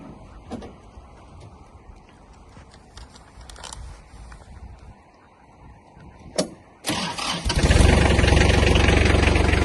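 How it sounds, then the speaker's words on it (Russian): A Kubota GL-27 mini tractor engine cranks and catches near the end, after a stretch of faint background noise and a few knocks, then settles into a loud, steady running roar. "Трактор запускается легко, работает чисто."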